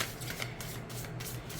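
A tarot card deck is side shuffled overhand, producing quick, rhythmic papery riffles and soft card slaps repeating steadily, close and fairly quiet.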